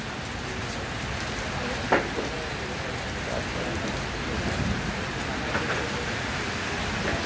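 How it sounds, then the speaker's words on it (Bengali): Heavy rain falling steadily, a dense continuous hiss of drops on surfaces with a couple of brief sharper knocks, loud and close, without talk. "বৃষ্টি, আমরা যখন আসছি অনেক বৃষ্টি।"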